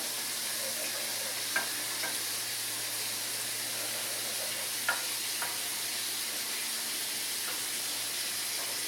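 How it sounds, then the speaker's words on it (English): General Tso's chicken with hot peppers frying in a pan, a steady broad sizzle and hiss with a few soft clicks of stirring utensils rising briefly above it; no one speaks. "Mix it up a little bit, let it heat through,"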